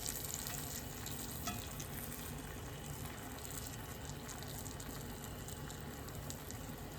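A steak quesadilla fries in a pan over medium heat, giving a steady, faint sizzle that continues evenly throughout.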